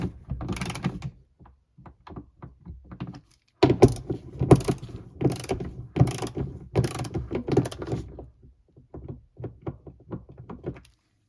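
Three bolts on a rear wiper motor of a 2021-2026 Toyota Sienna being tightened to spec, giving a run of close, loud mechanical ratcheting clicks and thunks in bursts with short pauses between.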